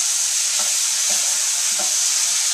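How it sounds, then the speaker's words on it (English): Vegetables sauté in olive oil with sweet heat chipotle seasoning, giving a steady, close, bright sizzle with a few soft stirring scrapes and no talk. "now I've thrown all the vegetables in there and they're all nice and sauteed"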